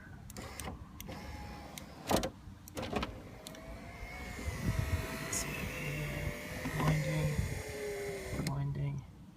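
A Ferrari F355 electric window motor driving the window mechanism, a faint whirring hum with rising and falling whines and mechanical clicks, heard under close talking.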